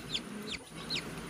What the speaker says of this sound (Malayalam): ഇത് കരിങ്കോഴിയാണ് കേട്ടോ